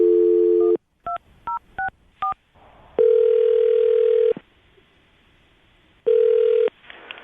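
A telephone plays a loud steady dial tone, followed by a quick series of short dialing beeps as a number is keyed in. Long ringback tones come next, separated by quiet pauses.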